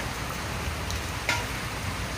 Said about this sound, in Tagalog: at maulan pa rin dito sa aming lugar